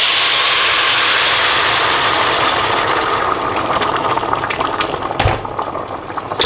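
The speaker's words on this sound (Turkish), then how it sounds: "Suyumu da katabilirim. Su kaynamış su olsun." Boiled water is poured steadily into a pot of Central Anatolian sulu köfte meatballs, a continuous close, bright splashing rush lasting several seconds before a brief clunk near the end.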